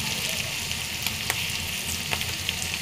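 Onions frying in a pan as they are stirred, a continuous close sizzle with a low rumble underneath and a few light scraping ticks.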